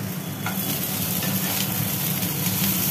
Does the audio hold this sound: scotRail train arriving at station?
no